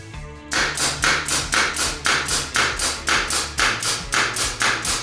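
Pneumatic nail gun firing in quick succession while powered by an air compressor charged to 8 bar, about ten sharp, loud shots at a steady rhythm of roughly two per second over a low, constant compressor hum.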